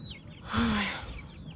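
A single soft cluck from a hen, brief and close, standing out against a quiet background hum.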